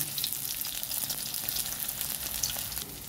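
Dried fish (daing) frying in a pan, a steady dense sizzle and crackle of hot oil throughout, close and continuous with no talking.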